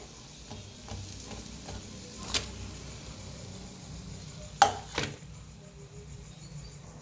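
Vadas shallow-frying in a pan until cooked on both sides: a soft, continuous low sizzle, quiet and close, with a few brief sharp clicks of a utensil against the pan.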